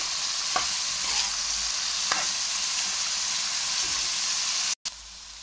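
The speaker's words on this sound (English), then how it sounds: "Continue frying until the beef softens." Beef with green chili and chili powder frying in a pan, a steady close hiss of sizzling with a few soft stirring scrapes, no talk.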